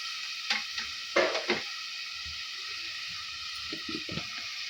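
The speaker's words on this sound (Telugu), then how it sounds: "ఆనియన్ పీసెస్ కూడా ఈ విధంగా వేసేసుకొని బాగా అయితే మిక్స్ చేసేసుకోవాలండి" Chopped onion pieces frying in a pan are stirred with a few quick scraping strokes over a soft, steady sizzle, close by and fairly quiet, with no talking.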